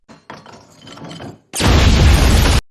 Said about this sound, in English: for the icing on the cake, they finish off with a grenade